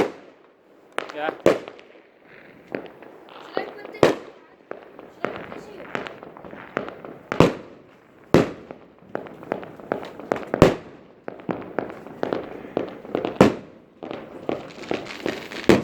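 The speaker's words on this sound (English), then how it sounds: "Set up na natin itong fireworks," Fireworks and firecrackers set off at a bonfire night birthday gathering, with sharp bangs and crackling bursts in an irregular series, some close and loud, with people talking between the blasts.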